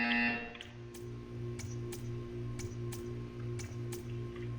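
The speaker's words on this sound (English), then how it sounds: "When you hear the buzzer, stare at the art." Buzzer in the video game Portal 2: a low electronic buzz pulsing in an even rhythm, with sharp ticks between pulses, fairly quiet after a brief tone at the start.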